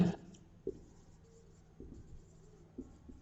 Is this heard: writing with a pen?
yes